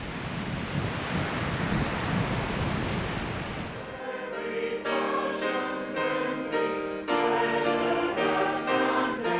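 Strong wind and sea spray roar across the microphone on a transatlantic cruise ship's deck for a few seconds, a dense rushing noise, before it gives way to a steady tonal, music-like sound.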